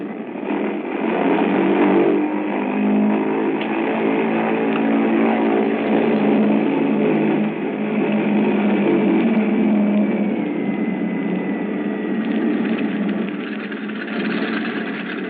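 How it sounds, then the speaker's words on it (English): A bomber's propeller engines run up at the head of a runway, a steady loud droning roar with a low idling rumble that holds throughout, heard through a narrow, radio-like band. "we were completing our engine run up at the head of the runway"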